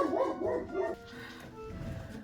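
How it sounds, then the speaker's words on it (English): A pet dog barking indoors, a few quick close yips and bow-wows in the first second, then quieter whimpering noises, with no one speaking. "So my dog was barking"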